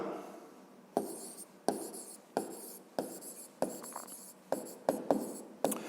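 A pen writes by hand on paper, the word for icicle being written, a quiet close scratching in short strokes with regular taps between them, no voices.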